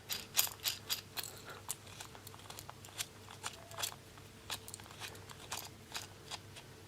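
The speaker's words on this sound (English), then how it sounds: "On with the washer, on with the heat shrink, another washer, and then on with the nut." Small metal washers, heat-shrink tubing and nuts being fitted onto bolts by hand, heard as a close, quiet run of irregular light clicks and rattles, with no voices.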